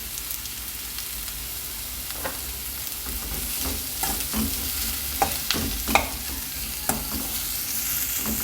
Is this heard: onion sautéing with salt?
yes